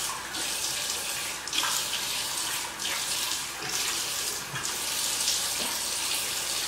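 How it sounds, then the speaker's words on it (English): Tap water runs steadily into a sink as a face is rinsed during a nighttime skincare routine, a constant close hiss of flowing water that swells and eases slightly with splashing. "I'm going to go ahead and rinse this off now."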